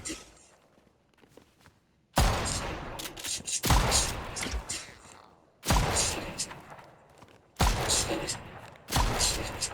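Shotgun blasts in the video game Fortnite, four loud, sharp booms spaced a couple of seconds apart, each trailing into a rumbling decay, after a quieter stretch of footsteps and movement.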